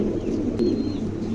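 Pigeons cooing close by, a low soft throaty coo over a steady hum, continuous and fairly loud across the short moment.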